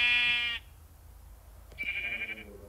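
Two sheep bleats in Minecraft, one at the start and another a moment later, clear and nearby with quiet in between and no speech.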